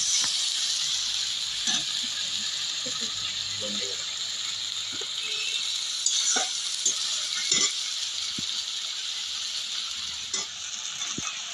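Cumin and onion paste masala sautéing in hot oil for a giant freshwater prawn curry gives off a steady, bright hiss of sizzling, broken by a few soft scrapes and clicks.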